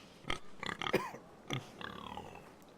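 A pig in a Game of Thrones video game (Iron from Ice, PS4) gives a few short grunting oinks, close and fairly quiet, with brief pauses between them.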